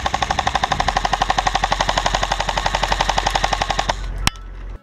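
Krytac Shrike airsoft gun firing one long, steady full-auto burst of rapid, evenly spaced mechanical cracks up close, ending with a sharp click before quiet.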